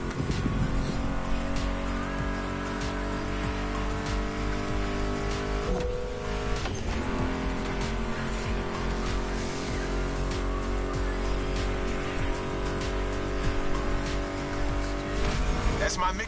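Muscle car engines drone and rev in The Crew racing game, a steady close mechanical hum with shifting harmonic pitch and a brief change around the middle, beneath people talking.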